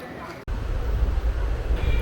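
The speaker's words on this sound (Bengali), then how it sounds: "বন্ধুরা আমাদের ট্রেন এসে পৌঁছালো উমারিয়া স্টেশনে" Passenger train arriving at a railway station, a close, heavy low rumble of wheels and carriages that swells after a brief dropout and rolls on steadily.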